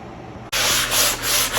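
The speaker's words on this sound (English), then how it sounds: "I decided to sand some to take the glossy look off of it." Sandpaper rubbing over a fire screen to dull its glossy finish, a loud close scratchy scrubbing that starts abruptly and runs in steady back-and-forth strokes with no talk.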